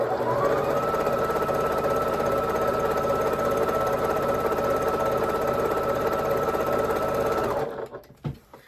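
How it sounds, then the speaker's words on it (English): A sewing machine stitches a quilt made from bonus half-square triangles, running at a fast, even, unbroken whir for about seven seconds before stopping abruptly, loud and close with no talking. "So on both sides, I will be sewing. I have a fresh bobbin in here, so let's go for it."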